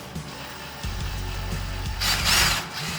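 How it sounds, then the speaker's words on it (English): A power drill with a bent, wobbling bit whirs steadily, close up, with a harsher grinding burst near the end as it bites into a Toyota Celica Supra's metal oil pan. "This drill bit is bent"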